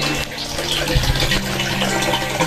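Water gushes steadily from a solar-powered submersible pump outlet, a continuous loud rushing splash with a low hum beneath it throughout.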